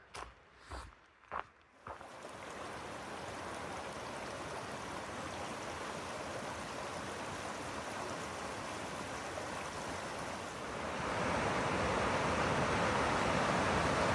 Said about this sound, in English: The McCloud River.